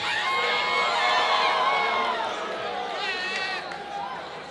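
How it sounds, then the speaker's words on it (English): At a live fight-night event, a crowd cheers and whoops loudly with many overlapping shouting voices and some applause, the roar easing somewhat after a few seconds. "Sound of applause."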